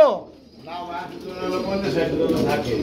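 Pigeons coo in soft, rolling calls from a large flock kept for sale, close and repeated, with a murmur of voices in the background.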